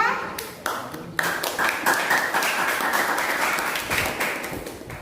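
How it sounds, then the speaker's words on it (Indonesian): A classroom of students applauds a group for its presentation, with a loud burst of many hands clapping that begins sharply, holds steady and fades slightly toward the end, with a voice faintly audible beneath it. "Tepuk tangan untuk kelompok 2."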